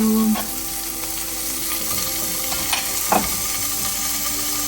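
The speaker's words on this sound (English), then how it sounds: "We're going to give it a quick stir" Bell pepper stirred in a hot frying pan, a steady close sizzle with a few brief scrapes and clicks of the utensil against the pan.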